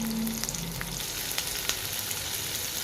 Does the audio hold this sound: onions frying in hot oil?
yes